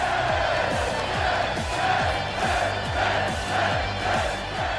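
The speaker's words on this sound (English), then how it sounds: "The crowd absolutely behind Dillinger as he makes his entrance" A video game arena crowd in WWE 2K17 roars and cheers for a wrestler's entrance, a loud sustained swell over rhythmic thumping entrance music beats.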